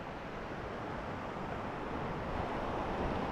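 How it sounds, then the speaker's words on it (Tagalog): Big sea waves churned up by Typhoon Odette on the coast of Iloilo make a dense, continuous roar of surf mixed with heavy wind buffeting the microphone, with no talk. "Grabe, lalaki ng alon guys."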